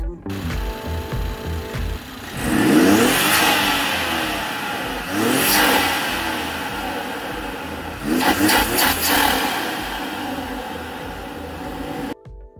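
A 2017 BMW 540i fitted with a billet intake revs in three strong bursts, each engine note surging up and falling back to a steady idle, loud and close with no talking.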